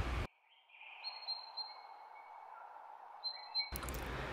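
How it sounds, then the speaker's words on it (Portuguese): A coastal seagull calls in a run of high, whistling cries that rise and step in pitch, heard clearly and alone between short bursts of voice at either end. "Gaivota."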